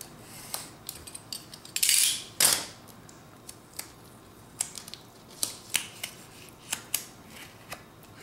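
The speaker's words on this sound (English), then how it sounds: "it's easier to cut off a bunch of the washi tape while it's already down" Washi tape is cut with scissors in a series of sharp snips at irregular intervals, with a couple of louder crinkling swipes early on. It sounds close and crisp against a quiet background.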